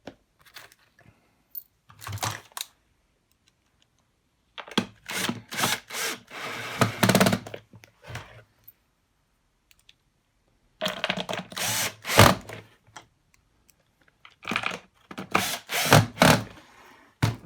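A power driver sends screws into a Numatic Henry vacuum during a repair. Four loud, close bursts of whirring and grinding are separated by stretches of near silence.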